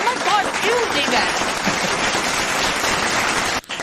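A studio crowd applauds throughout, a steady dense wash of clapping with talk and laughter mixed in, cutting off abruptly near the end.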